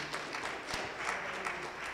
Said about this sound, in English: Would you give the Lord a hand clap of praise for those comments?